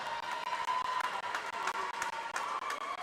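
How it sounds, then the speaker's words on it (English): Fans at a varsity high school swimming meet cheer and clap in a steady, moderately loud wash of crowd noise. Rhythmic bursts of applause run through it with no break. "Fans cheering."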